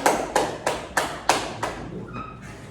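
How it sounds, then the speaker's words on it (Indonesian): Six sharp hand claps in a steady, even rhythm, close and fairly loud, for Rehan at the end of a school lesson on explanatory texts; a brief faint tone follows. "Beri tepuk tangan yang dulu untuk Rehan"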